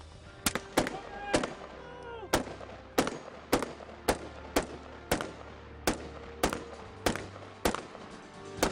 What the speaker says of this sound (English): Get on that gun, Neil!